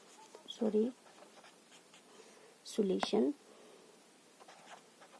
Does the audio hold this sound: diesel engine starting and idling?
no